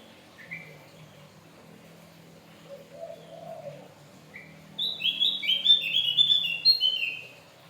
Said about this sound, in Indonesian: Opior Jawa bangku. Cucak jempol kalau di Jawa Barat dibilangnya.